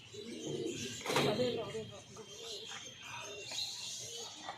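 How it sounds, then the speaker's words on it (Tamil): A pigeon at an exotic bird park coos softly beneath a person talking, with a sharp burst near the start and faint chirps from other birds around it. "இங்கே பாருங்கள், ஒரு புறா வெளில வந்துருச்சு."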